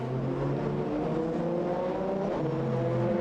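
2012 British Formula 3 race cars at Spa racing wheel to wheel, a loud, continuous engine roar with sustained high revs and shifting pitch as several cars run close together.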